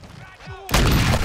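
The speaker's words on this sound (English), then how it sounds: "Ooh, grenade." A grenade blows up in Call of Duty: Modern Warfare 2 as a sudden loud, broad blast, heard after a brief stretch of quieter game sounds and continuing as a sustained roar.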